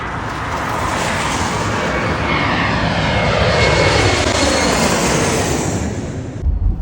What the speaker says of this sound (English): Then the last flight I got to see was United Airlines